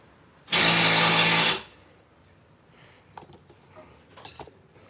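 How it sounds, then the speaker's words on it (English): Impact wrench on a brake installation, a single loud continuous burst of about one second up close, followed by faint clanks and shop handling noises. "I didn't get the top one, so I just hit it with the impact again."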